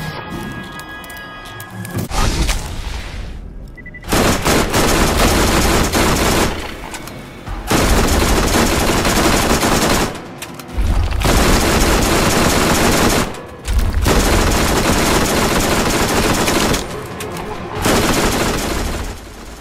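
Combat rifle gunfire in Borderlands during a solo Siren fight against Crawmerax: long, loud sustained bursts of rapid shots, broken by short pauses between volleys, with no talk.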